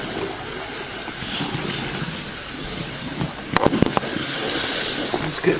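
A Hornby BR J15 class model locomotive, run in, runs steadily on its track with a continuous whirring drone and a few brief clicks partway through.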